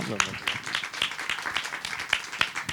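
Scattered clapping from a small audience at a film festival jury deliberation, sharp uneven claps mixed with a voice speaking over them.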